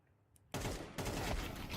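Gunfire in a Counter-Strike match on the Nuke map: after a faint tick, a sharp burst of rapid shots erupts, with a second burst following about half a second later, loud and dense.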